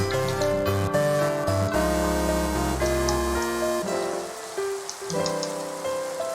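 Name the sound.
rain in the video game Minecraft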